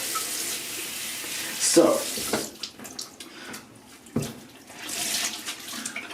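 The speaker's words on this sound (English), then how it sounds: "So it comes out of the tap." Hot water gushes from a bathroom tap in a steady rush with a few splashy bursts, varying as hands move through the stream, while a voice speaks briefly.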